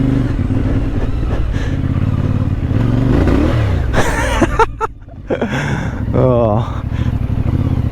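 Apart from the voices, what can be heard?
CF Moto 450 MT motorcycle riding at low speed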